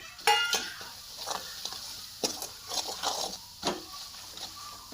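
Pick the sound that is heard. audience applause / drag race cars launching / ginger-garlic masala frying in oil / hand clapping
ginger-garlic masala frying in oil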